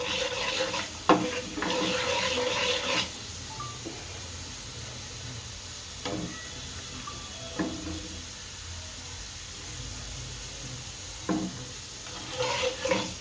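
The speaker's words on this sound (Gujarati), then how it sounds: "અને તેલમાં સારું સાતળી નાખશું. અને સાતળે રાખવાનું, લાલ થાય ત્યાં સુધી સાતળવાનું તેલમાં." Fenugreek seeds sauté in hot oil in a pan, giving a continuous soft sizzle and hiss with a few louder bursts of stirring scrapes near the start, midway and at the end.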